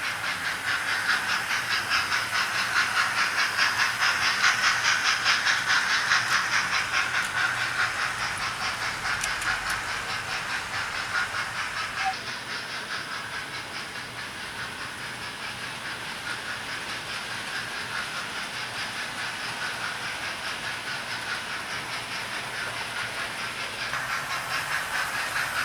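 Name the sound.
Hornby 4F model steam locomotive chuffing with wagons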